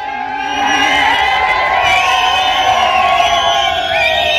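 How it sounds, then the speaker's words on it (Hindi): A large crowd at a school cultural competition in a mini stadium cheers for the tug-of-war winners from a government high school, with loud, sustained shouting and whoops blending into a continuous roar. "गवर्नमेंट हाई स्कूल यंगपा फर्स्ट की जोरदार तालियां होनी चाहिए"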